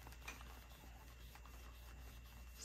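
Something is rubbed off by hand to clean it. A quiet, continuous scratchy rubbing sits close but faint over a low background hum.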